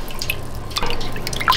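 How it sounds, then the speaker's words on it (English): Water at 75 degrees being poured slowly over Colby cheese curds during cheesemaking, heard as soft trickles and scattered close drips that grow a little busier near the end. "I'm just going to keep slowly adding our 75 degree water."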